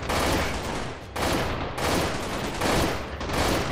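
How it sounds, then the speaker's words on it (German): Sustained volleys of automatic gunfire from the video game Freeman: Guerrilla Warfare, loud and close, coming in three or four long bursts separated by brief gaps. "Ja, da kommen die Schüsse schon."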